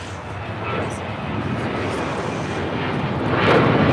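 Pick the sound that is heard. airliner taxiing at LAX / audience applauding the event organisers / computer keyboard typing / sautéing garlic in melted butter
airliner taxiing at LAX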